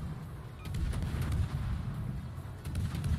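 Warship guns in World of Warships fire in a rumbling barrage, low booms rolling one after another at moderate volume with no voices over them.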